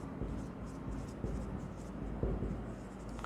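Chalk or pen strokes scratch in short bursts as a teacher writes during an accounting lesson, faint and close with soft taps between strokes.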